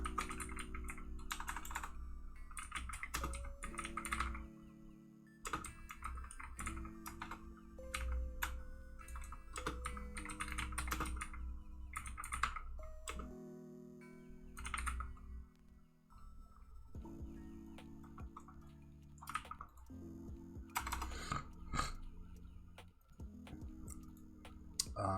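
Fingers type on a computer keyboard in irregular bursts of close, crisp key clicks, with short pauses between runs and a faint low hum underneath, no voices.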